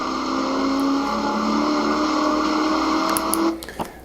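A Lingenfelter Camaro Z28 accelerates hard out of a turn at Inde Motorsports Ranch, its loud engine droning steadily and rising in pitch before easing off near the end.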